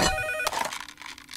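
A telephone ringtone from the emergency cheese phone in a TMNT cartoon rings loud and tonal for about half a second, then cuts off into a noisy, jumbled cartoon soundscape.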